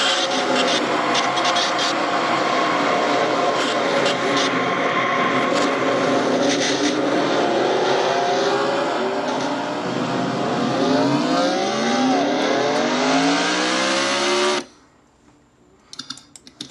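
Onboard replay audio from a Nationwide Series stock car racing video game at the Hooters 300: a loud, steady engine roar with rising and falling whines and scraping grind as the car crashes, then cutting to near silence.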